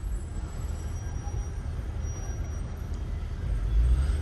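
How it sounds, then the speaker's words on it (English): Heavy city street traffic in New York City, a steady low rumble of buses and trucks idling and crawling nearby, swelling slightly louder toward the end. "This traffic is ridiculous."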